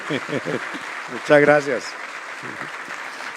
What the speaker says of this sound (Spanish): un gran aplauso por lo que hace y a todos ustedes